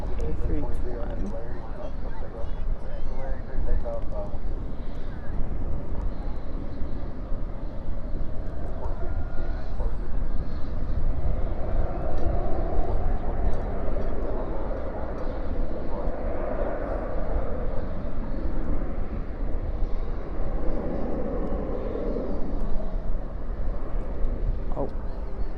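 An Airbus A320 airliner at DFW airport at night, a steady low jet engine roar and rumble that holds throughout, with people talking nearby over it.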